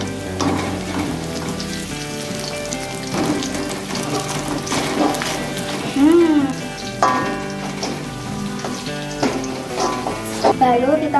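Sliced sausage frying in a pan with mustard greens while a spatula scrapes and stirs, a steady sizzle with rhythmic clacking against the pan and music playing over it.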